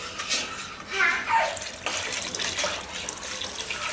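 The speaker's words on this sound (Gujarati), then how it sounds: "તો જે આમાં આપણે પાણી નાખશું, કેમ કે આ હજી ઘાટું થાય" Water splashes as it is poured into a pot of thick millet flour soup, a brief running gush and trickle that fades into softer dripping, with quiet background noise.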